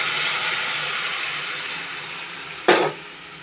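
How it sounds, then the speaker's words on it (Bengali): Tomato paste going into a hot pan with dry red chillies and five-spice seeds, a steady broad hiss of sizzling oil with one sharp louder burst near the end. "আমি টমেটোর যেটা পেস্ট করেছি দিয়ে দিলাম বন্ধুরা"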